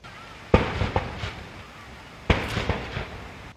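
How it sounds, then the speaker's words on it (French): Cannon shots of a 21-gun salute at a state welcome honour parade, two heavy booms about two seconds apart, each trailed by echoing rumble over a low crowd murmur. "une parade d'honneur ponctuée de 21 coups de canon"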